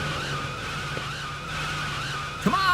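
A cartoon daredevil's car revs and skids, a steady engine drone with a rising squeal breaking out sharply near the end, fairly close and loud with no talk.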